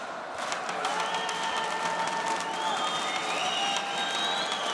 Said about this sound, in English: Drums, clackers, whatever you call them. They're making quite the noise.